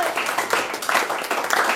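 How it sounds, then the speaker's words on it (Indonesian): A church congregation clapping and cheering, with bursts of rhythmic clapping mixed with voices at moderate loudness. "Sorak-sorai jangan tanggung-tanggung."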